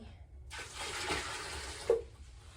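Water poured out of a flower container in a short steady splash for about a second and a half, close by, ending with a small clink.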